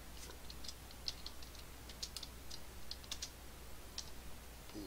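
Quiet, irregular clicks of a computer keyboard as a name is typed into a route-setup form, the keystrokes close but faint over a low steady hum.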